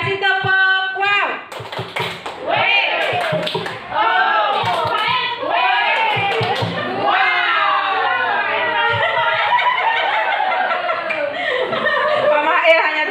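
A classroom group does the 'tepuk wow' rhythmic clapping chant, with patterned hand claps mixed with sung voices and light laughter, loud and continuous throughout.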